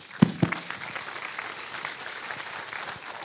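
Conference audience at a learn-to-swim event clapping, a couple of sharp close claps at the start and then soft, thin applause continuing quietly in the background.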